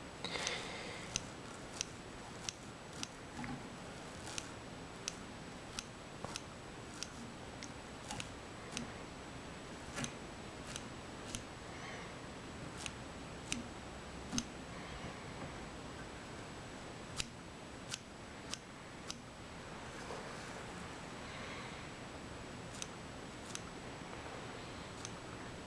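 Scissors trim material on a muddler minnow fly, a long run of crisp little snips at an uneven pace, close and quiet over a soft background hiss, with no talking.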